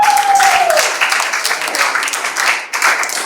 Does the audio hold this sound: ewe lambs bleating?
no